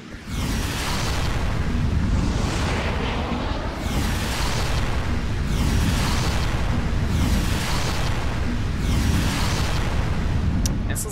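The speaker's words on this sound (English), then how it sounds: "Artillery fire mission." An artillery strike in the war game Air Assault: a continuous thundering barrage of explosions rolling in wave after wave, loud and dense throughout, with a few sharp cracks at the end.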